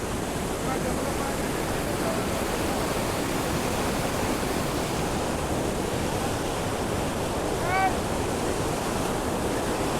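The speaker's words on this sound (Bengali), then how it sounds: "এই হলো জলটা এখান থেকে আসছে, এসে এখান থেকে গিয়ে নিচের দিকে পড়ছে।" A monsoon waterfall near Ranchi pours in a steady, dense roar of falling water, loud and unbroken throughout with no pauses.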